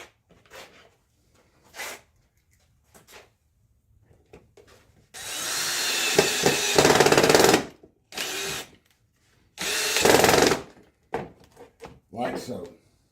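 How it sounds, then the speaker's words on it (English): Two long bursts of a whirring power drill driving wood screws into hardwood, each lasting a couple of seconds, with short quieter mechanical sounds and pauses between them. "take a couple screws, wood screws, and your drill, and run"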